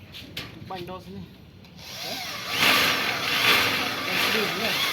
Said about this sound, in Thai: เดี๋ยวลองดูนะเนี่ยยิงสกูยึด แป๊บเดียว